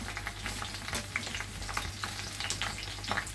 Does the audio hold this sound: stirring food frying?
yes